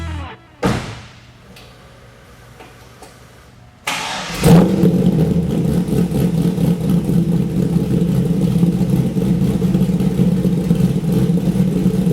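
A 2002 Corvette Z06's LS6 5.7-liter V8 engine cranks and fires up with a loud roar, then settles into a deep, steady rumbling idle close by.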